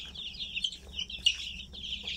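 A young chick cheeps repeatedly in high, thin calls while being held for its first ND and IB vaccination, the peeps close and steady with no talk.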